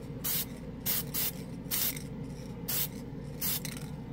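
Krylon Short Cuts spray paint sprayed onto primed plastic in five short, evenly spaced hissing bursts at close range, with quiet gaps between each spray.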